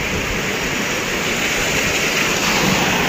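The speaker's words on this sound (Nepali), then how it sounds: "ओ माइ गड, ल हेर्नुहोस् त कस्तो पानी परिरहेको छ नि" A downpour of heavy rain in Malaysia drums steadily and loudly, a continuous broad roar of falling water with no talking.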